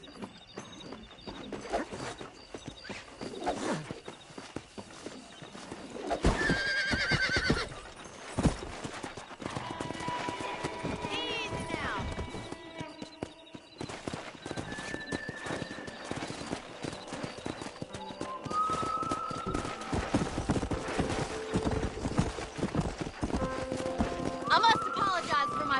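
Horses in the video game Red Dead Redemption: hooves clop in steady galloping rhythm and a short whinny breaks out now and then, with birds chirping and a constant outdoor background.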